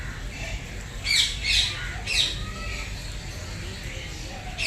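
Birds squawk inside an aviary at Kankaria zoo in Ahmedabad, a few sharp bursts of calls rising over a murmur of background chatter and crowd noise.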